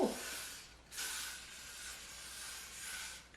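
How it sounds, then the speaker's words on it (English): Hair spray misted around the perimeter of the hair before a curly lace wig goes on: two soft, close hissing bursts, a short one and then a longer steady spray, with nothing else around. "I'm gonna go in and spray the perimeter of my hair."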